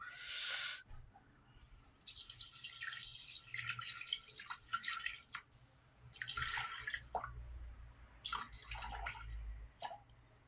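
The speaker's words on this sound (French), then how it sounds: "je vais venir mettre de l'eau" Bottled water pours in bursts into a Thermomix bowl set on a scale, bright splashing and dripping coming in several separate pours with short pauses between them, close by and with no talking.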